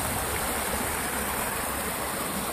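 Water flowing steadily through an overgrown fish passage beside a hydropower plant, a continuous rushing wash close by with no breaks and no voices.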